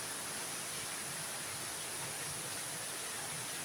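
Rainwater leaks through the roof into a house during Mumbai's first monsoon rain, making a steady, faint, hissing rush of trickling water with no breaks.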